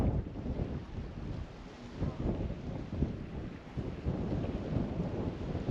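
Breezy wind at a seaside viewpoint in Plymouth looking out toward the breakwater, buffeting the microphone with a continuous low rumbling roar that swells and eases throughout.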